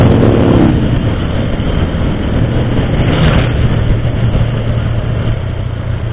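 Motorcycle engine running steadily on a rural road through Daang Katutubo, Aguilar, Pangasinan, a continuous loud low rumble with wind noise, close and unbroken throughout.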